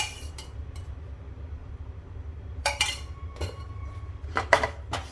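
A metal spoon adds desi ghee to a pan while making Sindhi makhana ladoo, producing a few bright clinks and scrapes against the cookware over a steady low kitchen hum.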